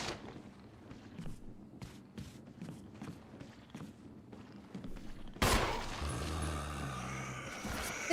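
Gunfire in the video game Resident Evil HD, a string of sharp, evenly spaced shots over low ambient noise, followed by a louder, denser burst of noise near the end.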